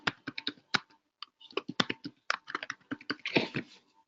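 Quick, close clicking keystrokes on a computer keyboard as a password is typed, in uneven bursts with a brief pause partway through, no voices.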